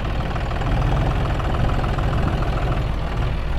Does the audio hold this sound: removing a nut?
no